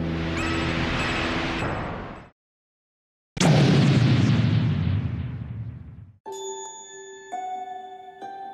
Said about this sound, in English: We're heading straight into the biggest explosion in history.